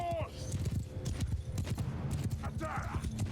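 Cavalry horses charge in Mount & Blade II: Bannerlord, a steady rush of galloping hoofbeats with neighs rising through the clamor, while a voice talks over the battle sounds.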